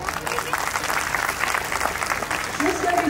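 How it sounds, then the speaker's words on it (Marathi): Audience applause at a women's forum birthday celebration for an MLA in Maharashtra, a steady dense clapping lasting the whole stretch, with some crowd noise mixed in. "जरा यांच्यासाठी जरा टाळ्या वाजवा."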